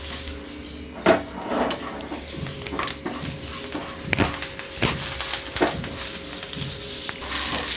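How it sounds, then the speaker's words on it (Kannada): Mango menaskai frying in a pan as curry leaves are dropped in, giving soft sizzling with scattered spoon scrapes and clinks against the pan, close and moderately loud, with no talking. "ಈಗ ಇದು ಫ್ರೈ ಆಗ್ತಾ ಇರುವಾಗಲೇ ನಾನು ಕರಿಬೇವು ಎಳೆ ಹಾಕ್ತಾ ಇದ್ದೀನಿ"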